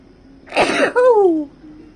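A single sneeze, a sharp breathy burst followed by a voiced trailing exhale, close and clear in an otherwise quiet room.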